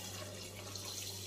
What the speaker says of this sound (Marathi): स्वच्छ पाण्याने धुवून घेऊया.